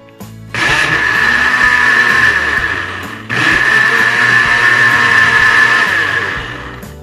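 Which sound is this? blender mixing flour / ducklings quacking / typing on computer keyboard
blender mixing flour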